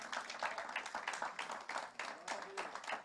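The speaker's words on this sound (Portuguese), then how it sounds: "Pode aplaudir ao Senhor, queridos." A church congregation applauds softly in the distance, the clapping faint and falling into a loose rhythmic pulse of repeated bursts.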